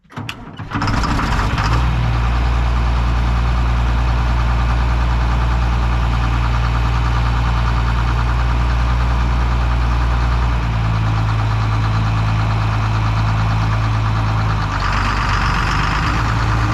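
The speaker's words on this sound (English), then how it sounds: "I'm going to fire up the tractor, get the picker turning real slow" A tractor engine on a peanut farm cranks and catches, then settles into a loud, steady idle with a deep, knocking throb. Its pitch drops slightly partway through and stays close and continuous to the end.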